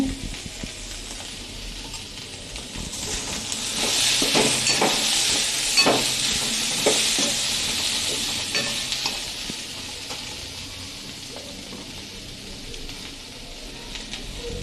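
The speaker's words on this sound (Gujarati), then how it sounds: "આ રીતનો જ મસાલો વઘારવાનો" Spices with salt and coriander-cumin powder fry in a pan, a steady close sizzle that swells midway as the mixture is stirred, with soft spatula scrapes and taps.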